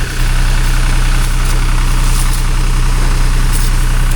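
A tractor engine runs steadily while spraying walnut trees in an orchard, a loud, continuous low idling drone with a strong fixed pulsing hum and no voices throughout.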